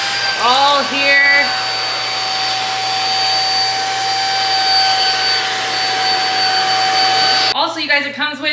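A handheld vacuum cleaner with several attachments runs as a steady, loud whine that holds for several seconds. Brief voices and squeaks come at the start, and more talk cuts in as the motor stops near the end.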